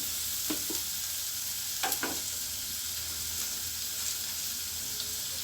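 Tomato kurma base for vada curry sautés in a pan with a steady hiss of frying, marked by a few soft spoon taps and scrapes.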